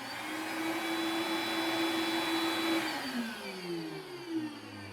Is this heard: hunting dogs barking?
no